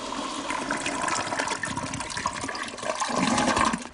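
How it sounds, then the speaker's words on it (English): A toilet flushing in a dramatized domestic scene, water rushing steadily and loudly for several seconds with gurgling swells and no voices over it. "Don't flush it!"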